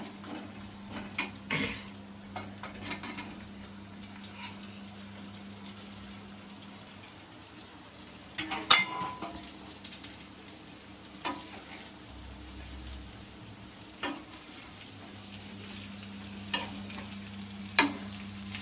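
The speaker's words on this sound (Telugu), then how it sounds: "ఇప్పుడు ఇది అందులో వేసి బాగా కలుపుతుంది" A pan of steamed railway-style snack pieces being stirred and mixed, with soft scraping and gentle sizzling under a low steady hum, a few louder spoon knocks scattered through.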